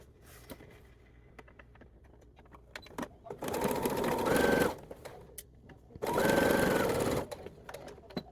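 Two short, close runs of a sewing machine stitching darts on a dress, separated by quiet handling clicks and rustles.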